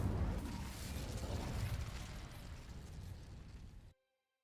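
An Incendio fire spell ignites dry vines in Hogwarts Legacy with a loud, roaring whoosh of flame and rumbling crackle that fills several seconds, then cuts off abruptly into silence.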